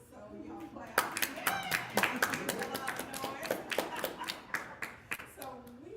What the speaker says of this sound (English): the audience is really full, so y'all clap